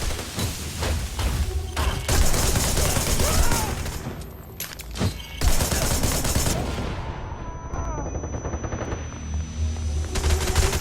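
Gunfire in the action game Wanted: Dead rattles in long, dense bursts of rapid shots, with a few pauses and booms mixed into the chaotic combat.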